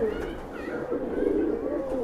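A Madrasi pigeon with deep-set eyes and a dragon-like face coos in a low, steady rolling murmur close by. Faint brief bird chirps sit in the background, and no one speaks.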